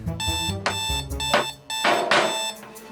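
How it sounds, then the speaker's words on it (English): An alarm clock's snooze alarm sounds with loud, insistent repeated electronic tones in a steady pattern, close and unaccompanied by speech. "You hit the snooze alarm."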